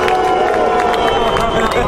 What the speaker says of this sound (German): einen Applaus für Angela Merkel bitte.